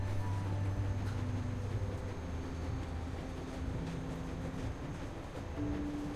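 A train in The Walking Dead video game rumbles steadily throughout, a continuous low mechanical drone with faint tonal hum, moderately loud and unbroken.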